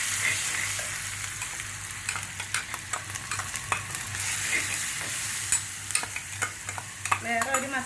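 Ground masala paste for a squid curry being sautéed in a pan, an even oily sizzle broken by a run of spoon scrapes and taps, with a soft low hum behind it and no talking.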